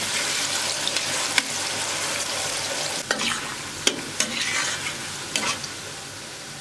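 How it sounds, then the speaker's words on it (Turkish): Steady, loud sizzling of zucchini frying in a pan fills the clip, with occasional sharp clinks and scrapes of a utensil stirring. "Kabak da kızardı."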